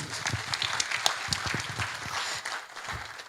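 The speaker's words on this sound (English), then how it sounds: "Please, let's clap. Let's make it warmer." An audience at a university convocation lecture applauds with a steady wash of claps, some individual hand strikes standing out near the front, moderately loud throughout.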